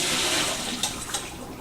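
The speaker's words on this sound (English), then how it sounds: "Now I'm just going to pour out the water." Rice-rinsing water pours from a pot into a colander, a continuous close splashing gush with a couple of small sloshes near the end.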